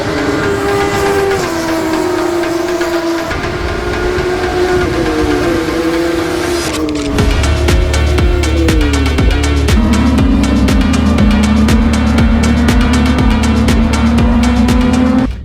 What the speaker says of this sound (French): il y a des petites voitures qui ont comme des sons de moto qui viennent d'embarquer sur la piste